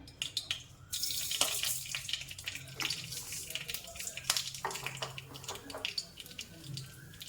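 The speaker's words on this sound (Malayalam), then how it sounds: "പാൻ വെച്ച് എണ്ണ ഒഴിച്ചിട്ടുണ്ട്. വെളിച്ചെണ്ണയാണ് ഒഴിച്ചത്. ഇനി കടുകിടാം." Mustard seeds dropped into hot coconut oil in a pan crackle and sputter in irregular pops over a hissing sizzle, with a voice talking at times over the sound.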